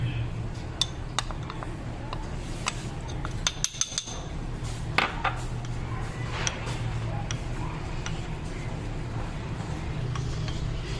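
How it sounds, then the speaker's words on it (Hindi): A spoon clinks and scrapes against a dish while custard powder is mixed into half a cup of milk for an Eid dessert, with light intermittent clicks over a steady low background. "अब ये जो कस्टर्ड पाउडर है ना, ये मिक्स कर लेते हैं।"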